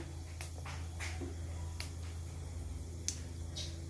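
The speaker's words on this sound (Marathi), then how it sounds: "जिरी मोहरी तडतडत आहे" A few scattered sharp pops and crackles, faint and irregular, over a steady low hum, as cumin and mustard seeds splutter in hot oil.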